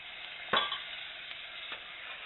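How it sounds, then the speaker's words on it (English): Coconut milk and garden vegetable cream cheese being stirred in a pot, a soft muffled scrape of a spoon with a few faint knocks against the side, quiet and close, no voices. "You want to just stir it."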